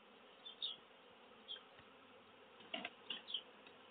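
Swarm of bees buzzing steadily around a hive box outdoors, a continuous droning hum with individual insects swelling louder as they pass close, no voices.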